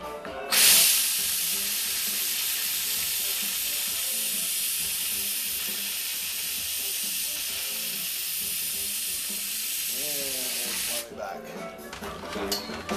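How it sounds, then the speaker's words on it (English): A steady, loud steam hiss from a small steam cleaner on a vinyl record runs unbroken for about ten seconds, then cuts off, leaving quieter handling sounds and a voice. "I'm going to grab my little steam cleaner here and start from the outside edge"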